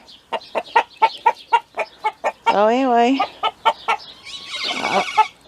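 A rooster clucks in a rapid, repeated series of short calls, breaking into a longer crow-like cry, with a brief spoken phrase mixed in.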